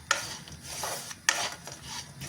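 Jaggery is stirred continuously in a kadhai, a spoon scraping and rubbing against the metal pan in two sharp strokes with softer grinding between, close and fairly loud with no voices.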